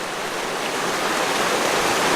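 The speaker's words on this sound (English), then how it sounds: "This is where the river runs out of this cave right here." Spring water flowing out of a cave into a river at the bottom of a Missouri gorge, a steady, loud rushing wash like a small waterfall, with no voices.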